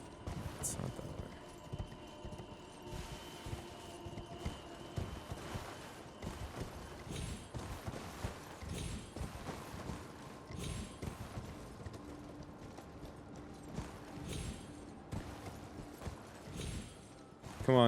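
Torrent the horse gallops in Elden Ring, with steady rhythmic clip-clop hoofbeats running close and continuous under game ambience and a player talking.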